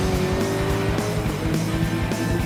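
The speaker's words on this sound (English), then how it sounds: "Garrison's really having some problems with that understeer in this Corvette" A Corvette race car struggling with understeer drives with its engine roaring loudly and steadily up close, and sustained tire squeal runs through the sound, with no talk heard.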